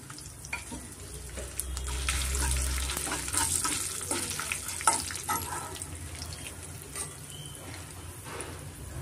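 Asafoetida and chillies sizzle in hot oil, a steady crackling fry up close with occasional stirring clatter, moderately quiet and without talk.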